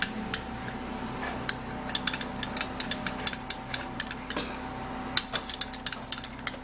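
A spoon scrapes and taps against a bowl while milk is mixed into boiled, blended potato, giving a steady run of small clicks and clinks at close range, with no talking.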